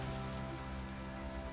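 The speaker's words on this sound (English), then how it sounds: "Looks like rain." Steady rain falls in the video game The Witcher 3 across the whole stretch, an even broadband hiss with faint low tonal hum beneath, fairly quiet and continuous.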